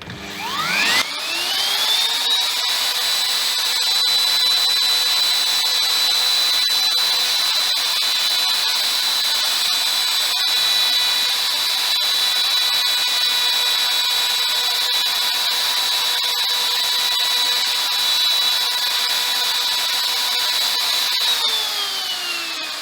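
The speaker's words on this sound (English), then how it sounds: "I'll freehand route it just because it's such a little amount." Electric router freehand cutting a small truss rod channel into a wooden guitar neck, a loud steady high-pitched whine that spins up, holds for about twenty seconds and winds down, no talking.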